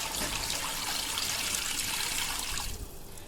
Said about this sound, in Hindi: यहाँ 1 जग भर के पानी शामिल करूंगी इसके अंदर